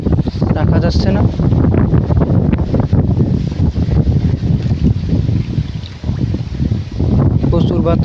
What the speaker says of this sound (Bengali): প্রচুর বাতাস বাসছে।